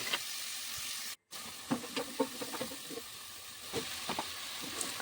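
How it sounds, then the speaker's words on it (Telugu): Green chillies and onion fry in a pan with a steady soft sizzle and hiss, broken by a brief gap and occasional stirring clatters and scrapes throughout. "ఇప్పుడు పచ్చిమిరపకాయలు, ఉల్లిపాయ చక్కగా వేపేసి చిన్న ఉప్పు వేసి వేపేసుకుందాం"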